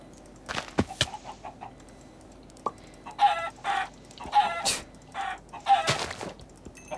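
A chicken in the video game Minecraft clucks in several short, separate bursts against a quiet background. The clucks come unevenly, with a few sharp clicks between them.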